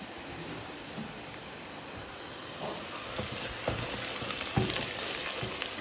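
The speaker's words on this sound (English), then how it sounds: "When the oil is hot, add Arvi in it." Pieces of arvi (taro root) fry in hot oil with a loud, steady, close sizzle throughout, while a few faint utensil taps come through toward the end.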